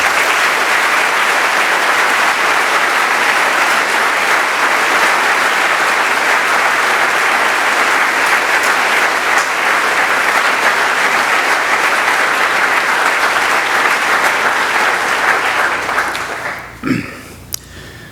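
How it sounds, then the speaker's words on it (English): Loud, sustained audience applause fills a room honoring a cancer survivor whose family is present, dense steady clapping continuing for many seconds before abruptly dying away near the end. "I'd like everyone to give her a round of applause"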